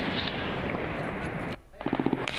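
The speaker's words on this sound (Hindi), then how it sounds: "अंधेरे में जो गोलियों की तड़तड़ाहट है वो सुनाई दे रही है।" Rapid bursts of automatic gunfire crackle at night through a loud wash of noise during Afghanistan-Pakistan border fighting, then a short dip before a quick rattling string of sharp shots.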